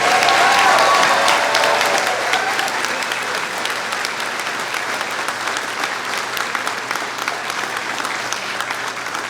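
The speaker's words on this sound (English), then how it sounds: "Let's applaud our graduates one more time." An audience at a commencement ceremony applauds its graduates with sustained, dense clapping that starts loud and eases slightly, steady to the end, with no speech over it.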